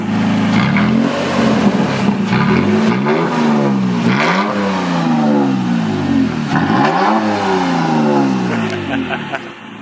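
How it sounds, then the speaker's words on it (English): A third-generation Toyota Tacoma pickup truck engine with a small muffler revs repeatedly, rising and falling in pitch with a deep rumbling exhaust, loud and close, with brief voices underneath. "Let me hop in and give it a couple revs."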